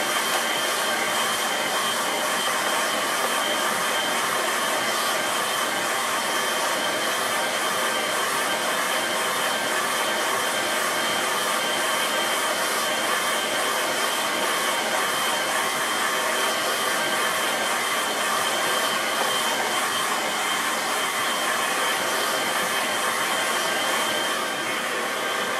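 A hair dryer blows steadily on wet watercolour paint, a loud continuous whooshing roar held evenly for the whole stretch with no talk over it.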